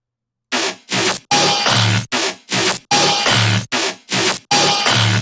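Layered dubstep drop basses hit in a choppy sequence of about eleven loud, harsh, growling bursts of uneven length, separated by tiny gaps, close and aggressive, with no talking.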